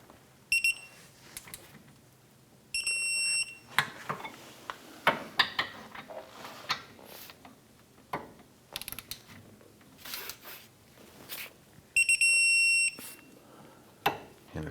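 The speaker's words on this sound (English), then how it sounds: "torque down our caliper bracket bolts to 41 foot-pounds" Torque wrench tightening rear caliper bracket bolts on a 2004-2008 Acura TL during a brake job, with crisp ratcheting clicks, metallic tool handling, and a few sharp chime-like clicks when the set torque is reached, close and without talk.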